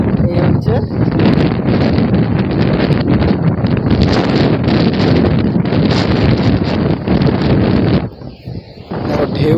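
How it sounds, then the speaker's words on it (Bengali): A strong sea breeze at Puducherry beach buffets the microphone in loud, constant gusts, briefly easing near the end, with surf and faint voices underneath. "সমুদ্রের এই মৃদু হাওয়াটা অনুভব করছে"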